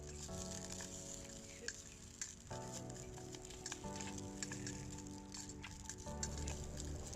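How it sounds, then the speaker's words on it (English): Rice frying in a wok over a campsite stove, a continuous close sizzle with irregular scraping and stirring strokes shifting the tone every few seconds. "Fry it up real nice. Trying to get that wok hay."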